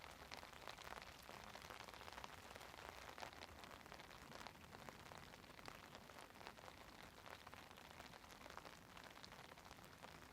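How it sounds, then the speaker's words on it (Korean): Steady rain falling outdoors at a freshwater carp fishing spot, a faint, continuous patter and hiss with no voices. "비가 내리고 있지만"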